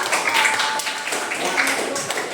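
Students in a classroom applaud one another after finishing their presentations, a steady wash of scattered hand claps at moderate loudness with voices mixed underneath.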